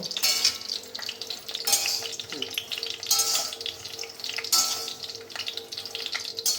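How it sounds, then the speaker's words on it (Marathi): Makhana (fox nuts) roast in homemade ghee with a steady sizzle and wet frying crackle, broken by periodic bright scraping surges from stirring every second or so, close up and fairly loud. "इकडे छान मस्त मखाणे भाजणं चालू आहे"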